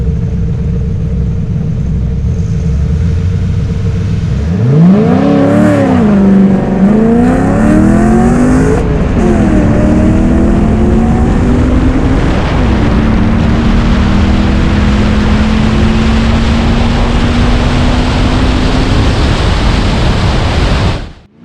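A stock 20-year-old Dodge Viper and a Ford Mustang launching in a drag race, the Mustang jumping first: engines climb in pitch through several gear changes, loud and steady under heavy rushing wind noise, with no voices.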